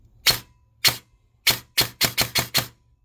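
A VFC Avalon MP5 airsoft electric rifle fires single shots on semi-auto, eight sharp mechanical cracks, the first few spaced out and the rest in a quicker string, loud and close with no talking.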